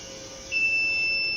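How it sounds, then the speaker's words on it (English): A gas leak sensor's buzzer switches on partway through, a steady high-pitched electronic tone that holds continuously over faint background hum, with no talking. "it turns on the buzzer"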